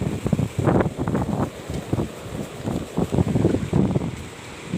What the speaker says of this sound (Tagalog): Kusog ang ulan, kusog ang hangin.